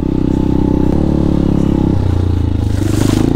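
An upgraded-engine motorcycle rides along a rough trail in Porac, Pampanga, its engine note steady and loud with shifting low drone and rattling clatter as it moves, no talk over it.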